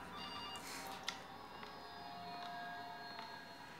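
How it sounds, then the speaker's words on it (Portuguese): A telephone rings inside the horror video game CASE: Animatronics, a faint electronic trill repeating at a steady pace under a hissy background, with no speech. "Ó! Um telefone."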